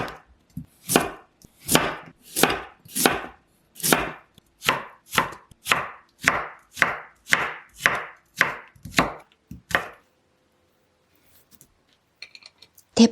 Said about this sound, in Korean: 당근도 길게 채 썰어줄게요.